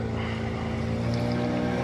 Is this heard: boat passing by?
yes